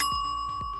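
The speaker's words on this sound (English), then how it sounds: "Bell." A bicycle-style bell rung as a rating, with two quick bright dings, each with a ringing tone that lingers after the strike, heard up close and alone.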